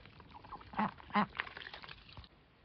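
Ducks quack in a few short, raspy bursts at a farmyard, at moderate distance and fairly faint over low background noise.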